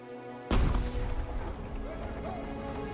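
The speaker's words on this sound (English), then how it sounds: "The cannons of the Alliance lighting up." Alliance cannons fire in a World of Warcraft cinematic, a sudden loud booming blast that rolls on as a sustained rumble beneath a swelling orchestral score.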